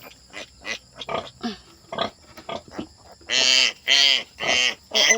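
Squeals from a newborn piglet, the smallest of a sow's fresh litter: a run of short squeaks and grunts, then four loud, drawn-out piercing squeals close by, with no talking.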